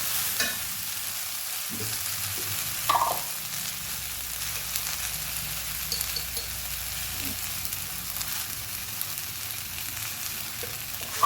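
Okra stir-fry (thoran) being stirred in a pan over steady sizzling frying, with occasional scrapes and clinks of the spoon against the pan, close and continuous.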